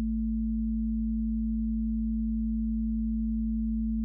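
Pure sine waves from a VCV Rack modular synth drift in and out of phase, giving a steady low bass tone with a slow tremolo-like pulsing that sustains evenly throughout.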